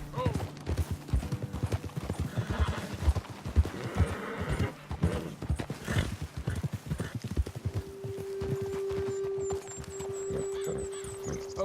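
Horses' hooves clip-clop at a steady walking pace in the Red Dead Redemption 2 game world, close and fairly loud under talking voices and music, with a brief whinny, before settling into a held musical tone.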